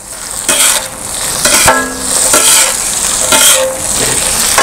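Green chillies are stir-fried into chicken kothu roti on a hot griddle, with loud continuous sizzling and several rhythmic scraping strokes of the spatula mixing them through, close up and without voices.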